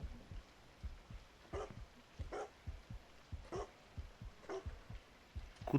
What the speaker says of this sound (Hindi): कुत्ते भौंकने की आवाज़ आ रही है,